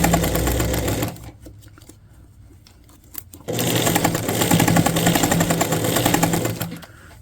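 A sewing machine piecing a diagonal-pattern baby quilt top runs in a fast steady whir, pauses for about two seconds, then starts up again loud and close with no talking.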